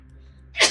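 One sharp sneeze bursts out near the end after a quiet, low humming background.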